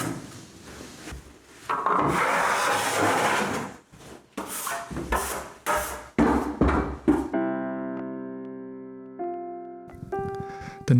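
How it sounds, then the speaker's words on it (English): Drywall being hand-sanded to smooth uneven spots and rough bits during interior renovation, heard as close, repeated rasping scrubs in irregular strokes, followed by a tonal hum near the end. "before that I had to sand everything down once to get rid of these uneven spots and the rough bits"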